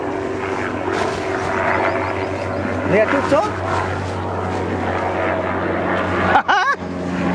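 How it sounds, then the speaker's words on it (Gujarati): An aircraft, most likely a helicopter passing overhead, drones steadily in the background throughout while people chat nearby. "એ હેલિકોપ્ટર જાય"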